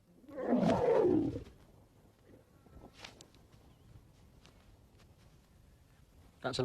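A male lion in the wild gives one loud, deep roar lasting about a second, then faint outdoor ambience with a few soft rustles follows.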